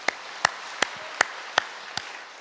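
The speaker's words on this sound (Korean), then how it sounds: "우리 박수 한번 드립시다. 하나님께 영광의 박수." A church congregation clapping in praise to God, heard as six sharp, separate claps spaced roughly evenly, each followed by a short room echo, with near silence between.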